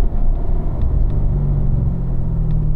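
Chevrolet Corvette C7 Stingray driving on a race track at Ron Fellows, loud steady low engine rumble heard from inside the car, with faint light rattles over the drone.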